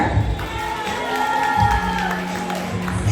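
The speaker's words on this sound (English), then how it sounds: "A round of applause for NGSA graduate Amelia Miller." A graduation ceremony crowd cheers and claps for a graduate crossing the stage, with whoops and a sustained voice rising above the mixed, fairly loud crowd noise.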